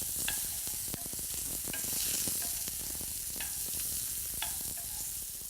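Beef pieces browning in a frying pan for a beef and wine stew, a continuous close sizzle and crackle with irregular spits and pops throughout.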